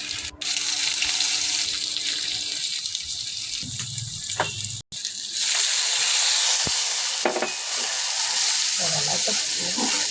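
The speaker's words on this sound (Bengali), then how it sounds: "এখন নেড়ে চেড়ে কষিয়ে আলুগুলি ঢেকে" A potato dish being stirred and fried in a pan, with a steady hiss of sizzling and intermittent scraping and clinks from the stirring, close and fairly loud throughout.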